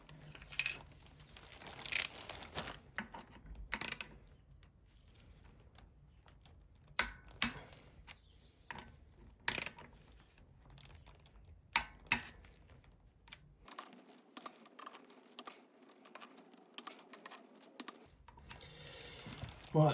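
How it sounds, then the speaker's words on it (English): Torque wrench clicks and ratchets as clutch cover bolts on a Suzuki V-Strom 650 are tightened to 10 Nm, giving a series of sharp, close metallic ticks spaced irregularly across the span with brief quiet gaps. "I'm just going to go around and torque these bolts up."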